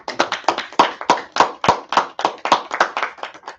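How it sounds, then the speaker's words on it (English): Steady rhythmic clapping, about four claps per second, sharp and close, from a small group keeping time together. "Let's clap it up."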